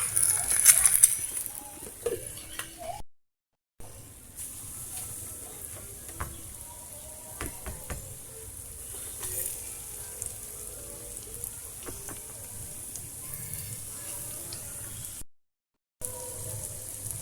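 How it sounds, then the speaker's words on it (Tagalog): Steady crackling and sizzling of milkfish steaks frying in a pan, with soft pops throughout, briefly cut to silence twice. "Prito pa natin yung iba"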